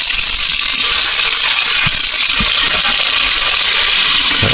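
Hot water runs from a kitchen tap while beefy mac and cheese with brats is being cooked, a steady, loud, even hiss of flowing water with no talking over it.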